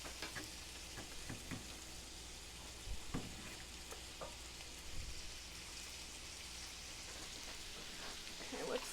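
Sausage and onions with red pepper flakes sizzle steadily in a pan, a soft continuous frying hiss with a few faint clicks and taps throughout.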